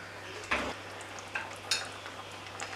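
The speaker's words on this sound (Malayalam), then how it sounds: "ഈ ചട്ടി ഒന്ന് ചുറ്റിച്ചു കൊടുക്കുക" Sardine curry, Kerala style, frying in a pan that is being swirled: a faint, low sizzle with a few soft scraping knocks of the pan.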